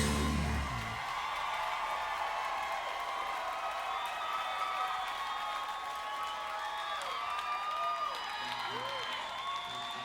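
A concert audience at a country show in 2005 applauds and cheers after a song, with a dense, sustained wash of clapping, whoops and shouts that fills the room at steady loudness throughout.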